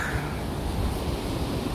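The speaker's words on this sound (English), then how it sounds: "You can hear the ocean," Ocean surf at Long Bay in Portland, Jamaica, heard from a seaside cliff resort as a constant, broad wash of rolling waves with some wind, steady and unbroken throughout.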